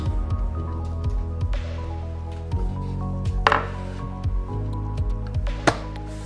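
Knife slicing halved, pitted plums into thin half-moons on a board, with repeated soft wet cuts and squishy drips in a steady rhythm, close up with no talk.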